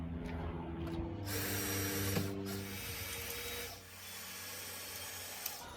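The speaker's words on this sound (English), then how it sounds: "Got this next crossbar in, just got to mark it, get the screws in." A power drill drives screws into a wooden crossbar of a ramp, with a steady whirring motor hum that rises and falls over several seconds and then eases off, close by and fairly quiet, with no talking.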